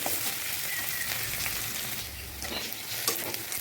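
Onions frying in a pan for a soybean-and-egg dish, a steady, close sizzle with faint stirring scrapes throughout, no talking.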